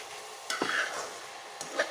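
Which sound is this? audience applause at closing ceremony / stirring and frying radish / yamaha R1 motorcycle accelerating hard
stirring and frying radish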